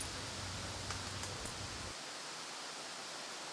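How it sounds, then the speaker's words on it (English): Outdoor wind makes a faint, steady broadband hiss with light rustling, easing slightly partway through, and no voices. "No voices, only the wind."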